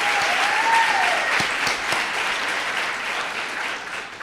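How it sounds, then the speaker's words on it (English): Sustained audience applause at a campus talk on sexual violence, steady and dense for the full stretch, with a faint voice briefly sounding over the clapping early on. "can we have another round of applause for Anju and Kay?"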